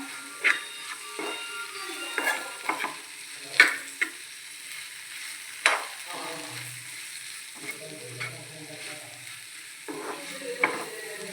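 Potatoes fry with chili powder and turmeric while a spatula stirs them, giving repeated scraping and clattering strokes over a low, steady sizzle, close and without speech.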